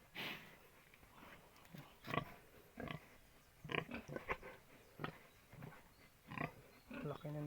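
A pregnant sow, heavy-bellied and nearly two months along, gives repeated short grunts and snorts close by in a pen, with a person talking quietly over them.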